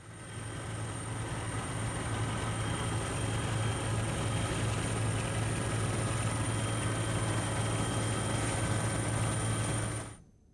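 A helicopter flies over pilgrims bathing in Prayagraj on Mauni Amavasya, showering flowers on them; its steady engine and rotor drone stays loud and continuous throughout, then cuts off at the end.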